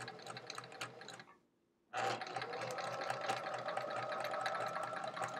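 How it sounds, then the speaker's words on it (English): A sewing machine stitches a Charming Chevrons quilt block with a steady, loud mechanical whir. It stops briefly for about half a second, then starts up again and runs on continuously. "I'm still working on making sure I'm sewing straight."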